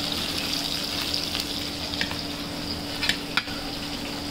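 Catla fish pieces frying in a pan give a steady broadband sizzle with a few brief stirring clatters near the end, close and even, with no voices.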